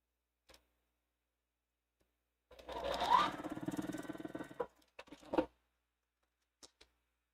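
A sewing machine runs in one steady burst of about two seconds, stitching blue fabric pieces onto a wall quilt, followed by a few short clicks and handling noises in an otherwise quiet room.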